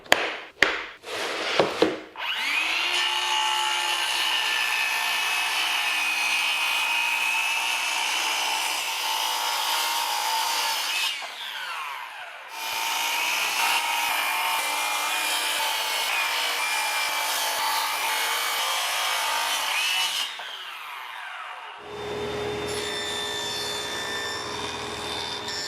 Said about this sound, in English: I need to break down 3 sheets of plywood using my quick measure saw track system